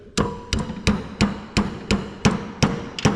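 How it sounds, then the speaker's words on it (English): A 12mm socket is tapped onto a valve seat to seat a double valve spring, producing about nine sharp metallic hammer taps at an even steady rhythm, close and alone. "12mm socket onto the valve seat, and you just tap it"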